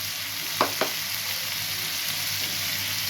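Onions fry in hot oil in a wok already used for frying kebabs, a steady close sizzle with two quick clinks of a utensil early on.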